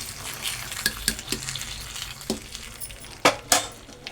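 A spoon stirs a hot tempering of seeds, garlic, chillies and curry leaves into boiling sambar, with a low bubbling sizzle and several sharp metallic clinks and scrapes against the pot, close and without talk.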